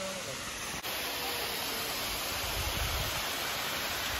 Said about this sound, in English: We got a little mini waterfall here.